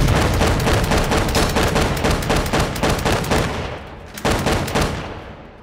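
Rapid gunfire and booming explosions in the VR shooter H3VR, a loud, dense barrage of overlapping shots that runs continuously, drops briefly near the end, then resumes.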